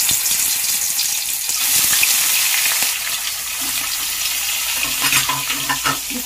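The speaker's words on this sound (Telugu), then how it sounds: "నూనె వేడెక్కిందండి, ఇప్పుడు ఎండు చేపలు వేసుకుందాం." Dried fish frying in hot oil in a pan, giving a steady broadband sizzle throughout with some clatter of stirring, heard alone without talk.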